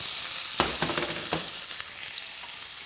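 Food sears in a hot pan with a soft, steady sizzle, broken by a few faint clicks and scrapes as pieces are turned.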